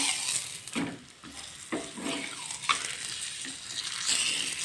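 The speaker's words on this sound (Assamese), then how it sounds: "এতিয়া ৰুটিখন ধুনীয়াকৈ ফ্ৰাই কৰি লওঁ" Roti sizzling in oil in a pan, a steady frying hiss broken by soft scrapes and stirring clatter, close and fairly loud with no talking.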